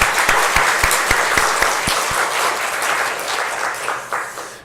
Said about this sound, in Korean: 우리를 변함없이 사랑해 주신 하나님 앞에 큰 영광의 박수 올려드리겠습니다.